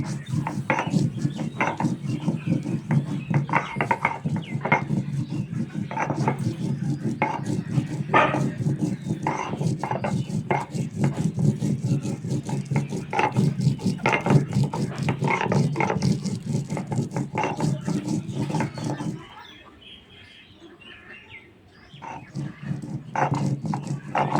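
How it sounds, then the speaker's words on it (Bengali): Dried red chillies crushed and ground by hand on a flat grinding stone in a Bangladeshi village kitchen, a steady rough scraping and rubbing rhythm that runs continuously before briefly pausing near the end. "এই শুকনো মরিচটাও ভালো করে বেটে নেব"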